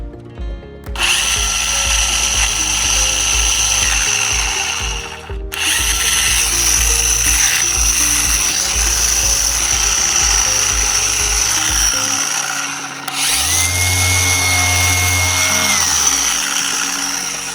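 A cordless Rupes HLR75 Mini iBrid dual-action polisher with a 12 mm throw runs loud and close as a steady high whine. It cuts out briefly twice, and the pitch shifts after a speed change near the end.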